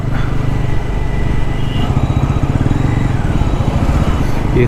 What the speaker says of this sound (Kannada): N S two hundred compare ಮಾಡಿದ್ರೆ ಫೋರ್ ಹಂಡ್ರೆಡ್ ಸಿ ಸಿ ಅಲ್ವಾ ಪವರ್ ಹಂಗಿದೆ